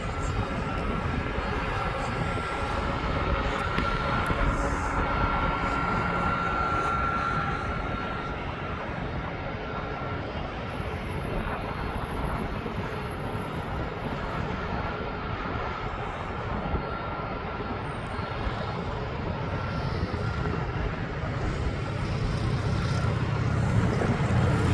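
An older Airbus aircraft at East Midlands Airport gives off a steady, broad engine roar that holds at an even level throughout, with faint voices occasionally underneath.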